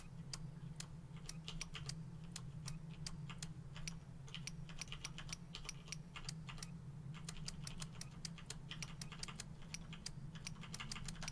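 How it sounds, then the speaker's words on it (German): A lock is picked in the Blair Witch video game, producing a long run of sharp, evenly spaced mechanical clicks, crisp and close, with no talking. "Achte auf die Geräusche beim Klicken."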